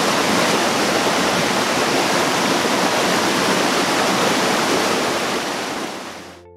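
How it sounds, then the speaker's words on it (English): Small mountain stream, the Nant Gwernol in mid Wales, rushing steadily with dense broadband water noise, loud and close throughout, fading at the very end; no voices. "Behind me is the Nant Gwernol stream. This is a small mountain stream that flows in mid Wales"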